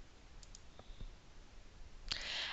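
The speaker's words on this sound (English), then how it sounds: "So to get to my Form Wizard, I'm simply going to click on Create." A computer mouse clicks while creating a form in an Access database: a few faint, soft clicks, then one sharper, louder click near the end over quiet room hiss.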